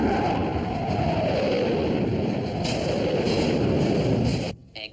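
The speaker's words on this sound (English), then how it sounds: "Express train. Approaching tunnel now." An express train in the Thunderbirds TV series runs on through a continuous low rumble and rush, with a gradual pitch change as it nears a tunnel and a sudden drop at the end.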